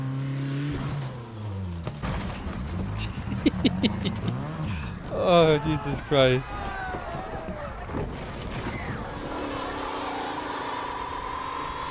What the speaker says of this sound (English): he's warming up the tires